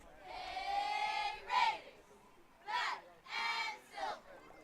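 A cheering section at a high school playoff softball game chants rhythmic group cheers, heard as several separate bursts of many voices shouting in unison from a distance with pauses between them.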